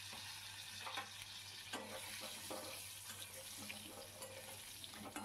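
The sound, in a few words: stirring potatoes frying in a pan with ridge gourd and prawns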